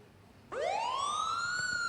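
An ambulance siren suddenly starts, a rising electronic wail that climbs in pitch and holds, loud and alone after a quiet room.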